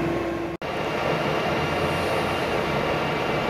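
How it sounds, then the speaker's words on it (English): A vertical turning lathe (vertical borer) runs at 40 RPM with its rail fully raised and the turret feeding down, giving a loud, steady broadband machine drone that is broken only by one brief dropout. "Now running at 40 RPM with the rail in its maximum elevated position, and the turret feeding down"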